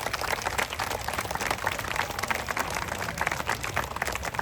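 An audience at a temple lamp-lighting festival claps together, a dense, loud, steady patter of many hands with no pause.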